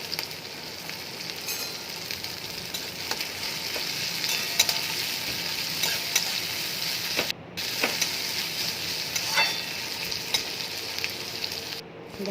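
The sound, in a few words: onion and green chili frying in oil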